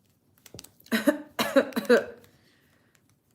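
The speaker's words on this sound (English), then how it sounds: "Why am I coughing?" A few harsh coughs close to the mic, clustered in a short burst, then quiet.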